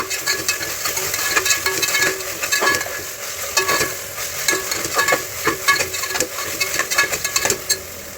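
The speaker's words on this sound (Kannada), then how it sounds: "ಇವಾಗ ಹಸಿ ಸ್ಮೆಲ್ ಹೋಗೋವರೆಗೂ ಫ್ರೈ ಮಾಡ್ಕೊತೀನಿ ಇನ್ನೊಂದ್ಸಲ." Ginger garlic paste frying in a pan for ghee rice and chicken fry, a continuous close sizzle broken by frequent rhythmic scraping and clicking of a spoon against the pan, loud and steady without speech.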